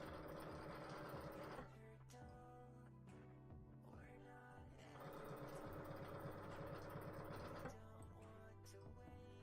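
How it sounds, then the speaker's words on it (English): A home sewing machine stitches in steady bursts while a quilt is pieced, a quiet mechanical whir with a short pause between runs, no one talking. "I love this sewing machine. I really do."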